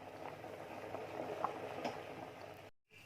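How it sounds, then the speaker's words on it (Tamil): Kadalai sundal kuzhambu bubbles steadily at a rolling boil in a pot, soft popping and gurgling close by, fairly quiet, ending in a brief cut to silence. "இப்போ நல்லா கொதிச்சிருச்சு."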